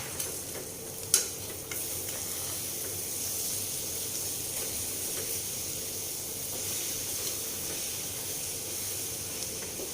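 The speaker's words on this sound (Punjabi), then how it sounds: "ਹੁਣ ਆਪਾਂ ਇਹਨੂੰ ਹਿਲਾ ਲਾਂਗੇ" A vegetable dish is stirred in a pan over a steady soft sizzle, with one sharper scrape near the start and quieter spoon movements after.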